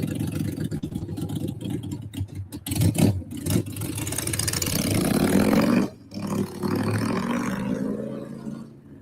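A Harley-Davidson motorcycle engine revs loudly in repeated roaring bursts, with brief drops between throttle blips, close by and without talk.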